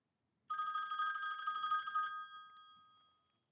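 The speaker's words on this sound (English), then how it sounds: "When I run this program, the phone rings." An old rotary telephone's mechanical bell, driven by a Raspberry Pi through a transistor circuit, rings in a rapid continuous metallic trill for about a second and a half, then stops and leaves a short fading ring.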